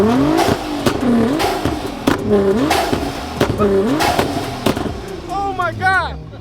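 A car engine revs repeatedly in short bursts, loud and close, with people talking over it throughout.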